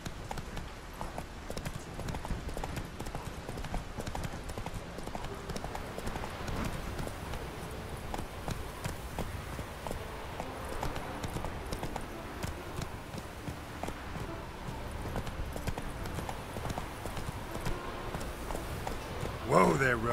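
Horse hooves clip-clop steadily as Roach, Geralt's horse in The Witcher 3: Wild Hunt, is ridden at a trot, a continuous rhythmic beat over game ambience, with voices talking near the end.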